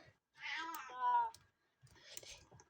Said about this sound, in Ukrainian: чуєш десь на вулиці коти м'явкою тут